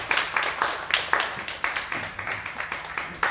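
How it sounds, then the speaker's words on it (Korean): Members of a Sunday service congregation give another round of clapping, sparse and fairly rhythmic, with separate claps standing out close by in a short, lively burst. "다시 한번 박수 한번 주겠습니다"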